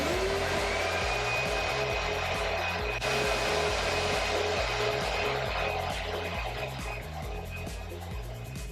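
A Kanga 220 machine running after its switches are flipped on, a loud continuous motor whine with a steady pulsing mechanical churn underneath, close and unbroken with no talk.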